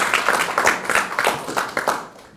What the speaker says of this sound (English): I'd like to give a round of applause for this great conference